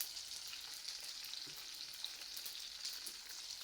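Cumin and onion fry in oil in a kadai with a faint, steady hissing sizzle and occasional soft stirring scrapes, heard alone.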